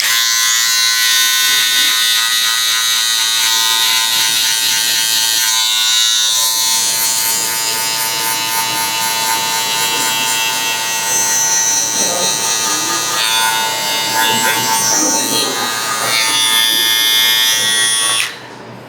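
Electric hair clippers fitted with a guard buzz continuously and close up while cutting a crop with a fade, their steady hum shifting slightly in pitch as they move through the hair.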